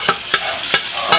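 Garlic, onion and pork sauté loudly in a pan, a steady bright sizzle broken by four sharp spatula stirs at roughly even intervals, close and with no voices.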